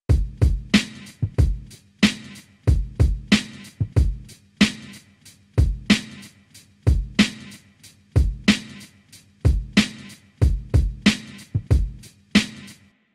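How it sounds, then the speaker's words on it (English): Layered hip-hop drum loop with punchy kicks, sharp snares and hi-hats, EQ'd and lightly distorted for a fuller sound, a steady boom-bap pattern repeating alone and up close. "he added a little bit of EQ and distortion to make the drums just sound a little bit more full"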